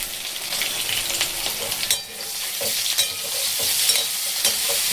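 Boiled potatoes frying in oil with turmeric in a pan, a steady close sizzle broken by scraping stirs and clinks, with no talking.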